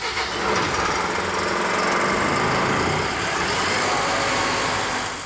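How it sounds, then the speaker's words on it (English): An engine on a piece of shop equipment fires up from the starter and settles into a steady, rough idle, close and continuous with no talk over it. "now you're just going to engage the starter and start the unit"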